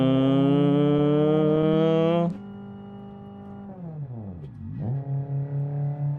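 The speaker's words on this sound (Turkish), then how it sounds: "Şu arabanın sesi benden alıyor." A loud, tonal Tofaş car engine in a multiplayer drag racing video game revving high then dropping, followed by a lower idle that dips and climbs again, synthetic and close.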